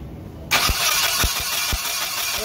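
A car engine cranks after its ignition system is bypassed, a sudden loud onset followed by a few evenly spaced thumping starter pulses over a steady whirr, close up, no talk.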